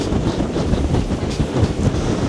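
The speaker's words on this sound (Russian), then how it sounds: "И такие волны здесь задувают." Sea waves and strong wind at the end of a pier on the coast near Rome make a loud, continuous broadband roar with gusts buffeting the microphone, and no voices.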